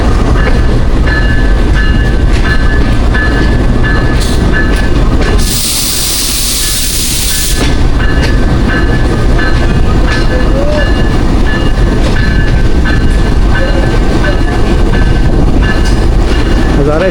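A Hazara Express passenger coach rolls along the rails with a loud, steady rumble and clatter from inside the carriage, broken briefly by a burst of hissing noise partway through.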